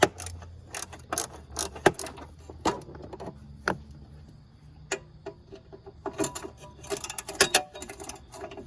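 Ratchet loosening 12 millimeter engine mount bolts on a 2005 Nissan Altima 2.5L, a series of sharp clicking bursts and metallic clacks in irregular clusters, close and moderately loud, without talk.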